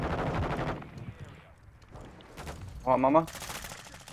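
Rapid automatic gunfire in Call of Duty Modern Warfare 2 from a high-capacity gun, dense bursts starting loud then dropping off, returning near the end, with a short spoken line partway through.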